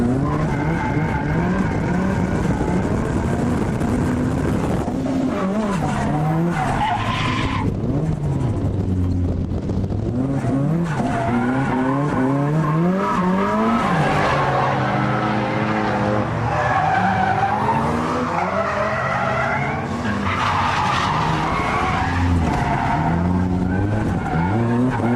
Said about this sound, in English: It's set up for maximum torque rather than outright power, so it's easy to get the rear wheel spinning.